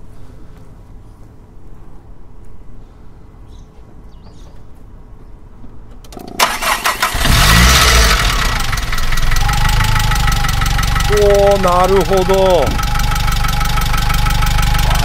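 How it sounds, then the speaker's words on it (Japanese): A Nissan Skyline RS-X turbo's FJ intercooled turbocharged engine cranks and fires up, then settles into a loud, steady idle close by, with someone briefly speaking Japanese over it. "FJ インタークーラーターボの、ね、エンジン音ですよ"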